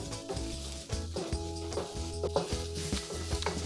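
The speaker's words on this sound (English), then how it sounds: "The garlic should saute for 30 seconds or so" Minced garlic sizzles in a hot pan for a beef and broccoli stir fry, with a spatula stirring in quick repeated scrapes and taps over a steady frying hiss.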